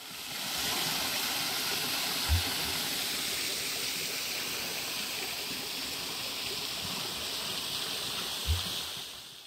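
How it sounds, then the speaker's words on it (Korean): Eungam Falls, a small waterfall on a Korean forest trail, pours steadily with a constant bright rushing hiss, close by, broken only by two faint low thumps. "조금 올라가니 갑자기 물소리가 커지는데요. 이 앙증맞은 폭포는 응암 폭포입니다."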